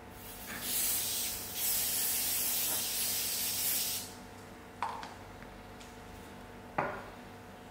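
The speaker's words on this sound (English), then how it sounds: "We're going to prepare our baking tray with spray and cook." Cooking spray hissing onto a baking tray in three steady bursts, close and fairly loud. A couple of light clinks from the tray follow in the quieter stretch after.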